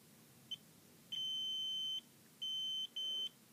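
A multimeter beeps during a continuity test on an LED lamp: one short chirp, then a sustained tone of about a second, then two shorter tones, all clear against a quiet background.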